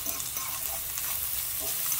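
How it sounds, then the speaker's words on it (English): Apples lightly sautéing in a pan make a steady, soft sizzle with a broad hiss throughout and no voices. "We are just going to lightly saute the apples and then add some of the walnuts to this."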